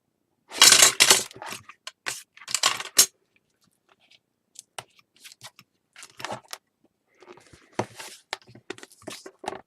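Scissors snip through post-bound album cover material in short bursts of crisp cutting, with quieter scattered handling and crinkling noises between them, close and alone.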